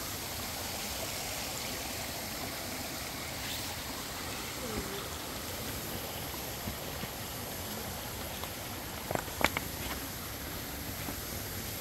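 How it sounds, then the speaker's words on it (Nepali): Broad, steady rushing of a stream flowing across a road near Dharan after heavy overnight rain, with faint scattered knocks and a brief voice. "मूल बाटोमा खोला बगेको छ"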